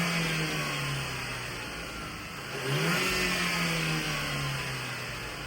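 A VW Eos engine revving while stationary before a dump valve is fitted, a steady hum that swells into a louder rev near the midpoint and then settles, close and alone, with a misfire on cylinder 1.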